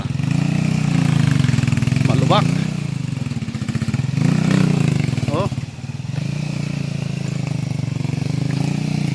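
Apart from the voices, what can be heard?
motorcycle engine struggling on rocky road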